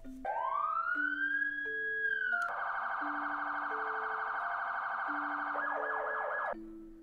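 Police sirens wail loudly and alone, a rising tone settling into a sustained howl, then switching to a rapid yelp pattern near the end before cutting off abruptly.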